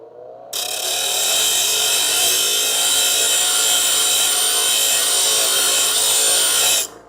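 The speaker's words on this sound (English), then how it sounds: "I'll do that with the bench grinder" A bench grinder angling a metal frame tab on a pickup-based Charger crew cab build: a loud, steady, high-pitched grinding whine that starts abruptly, holds continuously and cuts off near the end, with no talking.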